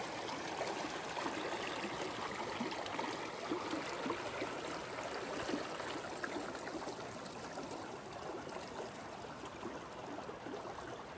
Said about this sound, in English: And this is the main part of the creek, cutting through here.